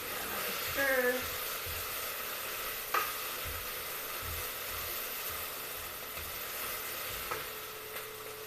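Tomato soup is stirred in a pot over a steady, sizzling background hiss, with a spoon scraping and a few light clinks, fairly faint.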